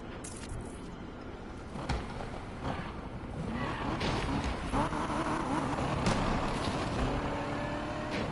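Police cars in Need for Speed Unbound driving past a parking lot, a steady swelling road rush with engine noise that grows slightly louder and fuller as they go by, with no talking.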